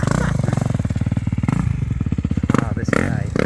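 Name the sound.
Kawasaki KX dirt bike engine being ridden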